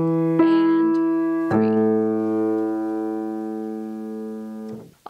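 Piano playing a syncopated rhythm from a musical: a few clear notes, with a long held note sustained over a steady beat and ringing out before a brief stop.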